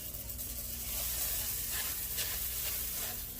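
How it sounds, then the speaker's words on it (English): Six cups of Rice Krispies cereal poured into melted marshmallow in a pot, giving a soft, steady crackling hiss with faint rustling, fairly quiet and continuous without talk. "And now I'm going to add 6 cups of Rice Krispies"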